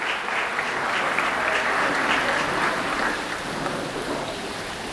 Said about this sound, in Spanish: Un fuerte aplauso para nuestra bella modelo de Cobán